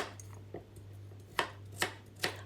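A knife chops potatoes and other soup vegetables on a board in a few sharp, separate strikes, the last three evenly spaced, over a faint steady hum.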